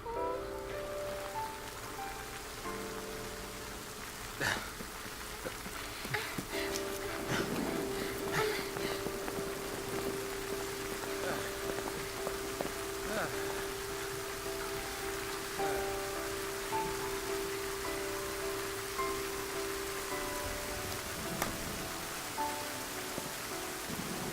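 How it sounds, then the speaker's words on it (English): Steady rain pours in the video game Final Fantasy XIII, making a dense, continuous hiss that lasts throughout. Occasional sharper crackles and a low sustained tone sit in the background, and no one speaks. "When it rains around here, it pours."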